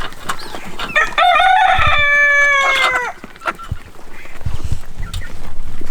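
Chickens cluck and one rooster crows loudly and close, a long drawn cock-a-doodle-doo, with other poultry including ducks scuffling and calling around them.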